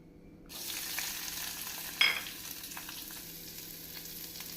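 Oil starts sizzling suddenly as mustard seeds, urad dal and onion go in, and keeps up a steady frying hiss, with a brief louder crackle partway through.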